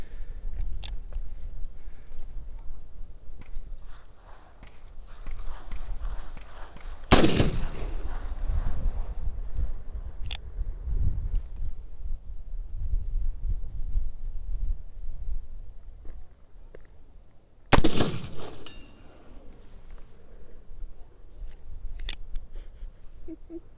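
Black powder gun shots fired at long range outdoors, heard as two sharp, loud blasts with booming tails spaced about ten seconds apart, a fainter crack between them, over a low rumbling background.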